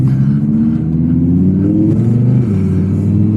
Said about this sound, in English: That V10, especially right behind you, sounds absolutely amazing.